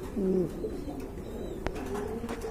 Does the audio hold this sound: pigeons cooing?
yes